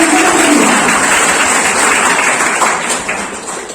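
A university audience at a National Engineer's Day event in Bhagwanpur, Bihar, bursts into loud, sustained applause that gradually thins toward the end.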